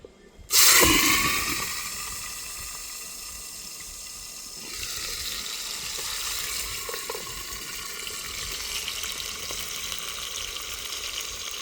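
Chopped onion dropped into hot oil for a dried fish dish cooked outdoors in a garden, giving a sudden loud hiss that settles into a steady, bright sizzle lasting several seconds, close by with no talking.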